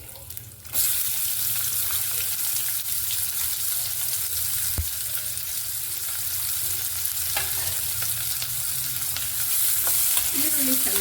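Asafoetida, curry leaves and onion hit hot oil for bitter gourd palya, setting off a sudden loud sizzle that keeps crackling steadily, with occasional stirring clinks against the pan.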